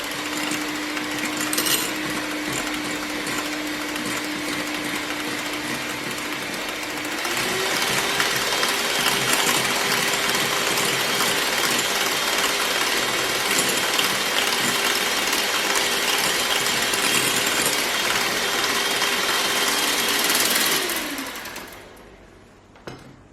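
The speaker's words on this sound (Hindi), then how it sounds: "अभी वापस मैं उसको थोड़ा सा फेंट लेती हूँ" An electric beater whisks vanilla ice cream mixture in a home kitchen: a steady, loud mechanical whir with a constant tone that steps up in pitch partway through, then dies away near the end, with no talk.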